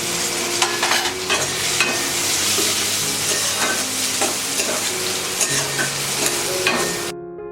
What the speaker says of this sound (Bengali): পেঁয়াজটা ভাজার সময় আমি একটুখানি নুন দিয়ে দিলাম, তাতে পেঁয়াজটা তাড়াতাড়ি নরম হয়ে যায়।